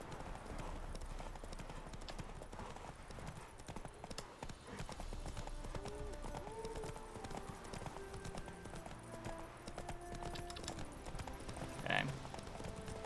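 Roach, the horse in the video game Witcher 3, gallops in a quick, even clip-clop of hooves that runs throughout, fairly quiet, with a brief whinny-like burst near the end.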